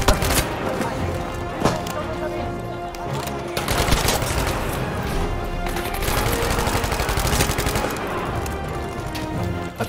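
Rapid bursts of Tommy gun fire in Battlefield 5, loud and close, repeating in dense volleys through the whole stretch with a few sharper isolated shots mixed in.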